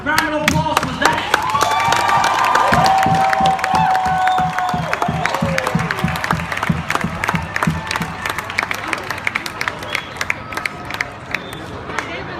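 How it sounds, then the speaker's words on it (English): A crowd at a Baltimore justice rally applauds and cheers loudly, dense sustained clapping with shouts and whoops that thins toward the end, and a voice speaks through it. "give yourself another round of applause for that"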